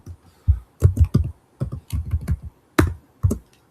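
Fingers tap out PHP code on a computer keyboard in quick, irregular clusters of close, crisp keystrokes with short pauses between bursts, no voice present.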